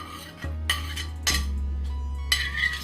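Chopped onion, green chilli, tomato and coriander are mixed with oats uttappa batter in a bowl, with a spoon clinking and scraping against the dish in irregular close strokes and a low steady hum beneath.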